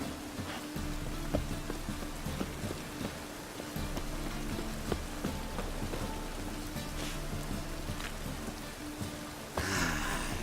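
Steady rain falls in the video game The Witcher 3, a continuous hiss of drops spread evenly over the whole stretch, with soft background tones and a brief louder swell near the end.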